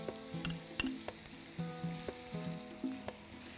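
Slit green chillies, ginger and garlic frying in hot oil in a pan for a chicken tikka pulao, a steady quiet sizzle broken by repeated clinks and scrapes of stirring.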